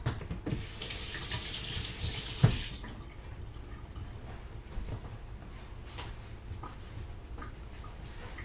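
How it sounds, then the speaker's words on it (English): A kitchen tap runs for a rinse, pouring strongly for a couple of seconds with a sharp knock, then settling into a quieter ongoing trickle of water with no speech. "let me just rinse"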